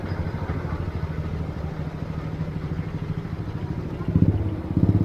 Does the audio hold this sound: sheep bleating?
no